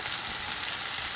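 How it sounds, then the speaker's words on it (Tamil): Onions sautéing lightly in a pan for a Sri Lankan-style carrot and cabbage milk curry, giving a steady, even hiss of frying that continues unbroken and without voices. "கிளறிட்டு லைட்டாக ஆனியன் சாஃப்டாகட்டும், ரொம்பவும் சாஃப்டாக தேவையில்லை. ஸோ லைட்டாக வதக்கிக்கலாம்."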